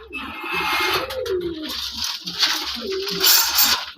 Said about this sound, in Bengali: দেখেন এখানে এক জোড়া আমার দেশি কবুতর দেখেন